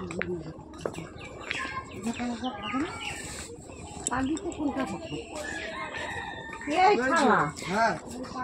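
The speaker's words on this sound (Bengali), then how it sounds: "দেখো দেখেছো পাখিদের আওয়াজ" A rooster crows with a rising, wavering call while other birds chirp and call around it, outdoors, with people talking in the background.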